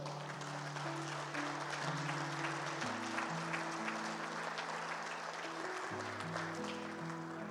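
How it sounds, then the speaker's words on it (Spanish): A church congregation claps in a continuous burst of applause, layered over sustained, shifting keyboard or organ chords playing throughout. "Dale un aplauso al Señor ahí."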